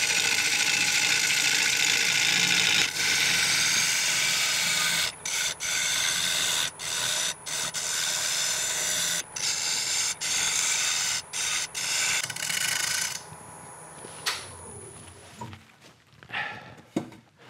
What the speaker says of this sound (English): I'm gonna switch to this tool. This is a ring tool, and I'm gonna get rid of those tear outs.